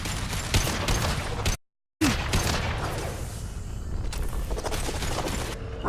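Rapid volleys of gunfire from a Mass Effect 2 firefight crack loudly in bursts, broken by a brief silent gap before more shots and mechanical clatter.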